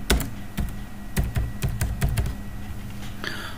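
A computer keyboard clacks as a password is typed, a quick run of close, sharp keystrokes in uneven bursts that thin out toward the end.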